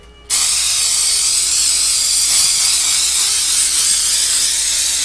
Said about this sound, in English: hose her on this side first